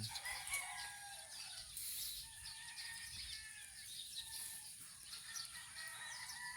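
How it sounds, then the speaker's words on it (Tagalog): A rooster crows at dawn, close to 6 a.m., its faint calls rising repeatedly over quiet outdoor background with occasional clucks from other fowl. "Yun na, tilaok na oh."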